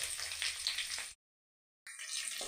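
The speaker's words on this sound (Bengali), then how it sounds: "30 সেকেন্ডের মতো এটা ভাজতে হবে।" Ten to twelve garlic cloves, four green chillies and an inch of chopped ginger fry in a pan with a bay leaf. A soft, close sizzle is cut by a sudden stretch of silence before resuming.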